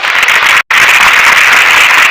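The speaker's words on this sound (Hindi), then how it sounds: "जरा जोरदार ताली बजाइए।" A crowd breaks into loud, sustained applause, many hands clapping densely with a brief cut partway through.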